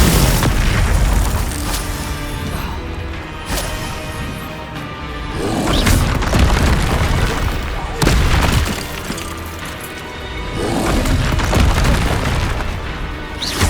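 Confringo fire spells blasting in the video game Hogwarts Legacy, a steady run of loud booming explosions and crashes with whooshing bursts, mixed among other spell effects and game sound.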